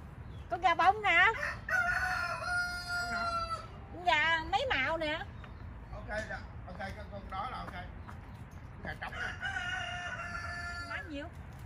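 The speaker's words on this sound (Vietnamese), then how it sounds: "Con gà bông nè." Roosters at a backyard chicken sale crow repeatedly and loudly, with several long rising calls over steady background hum and people talking nearby.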